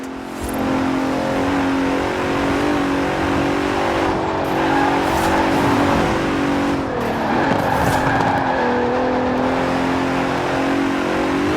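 A Bentley Continental racing car in Forza Horizon 4 holds a loud, steady engine drone throughout, with a brief tire skid and rising rev near the middle. No voices are heard.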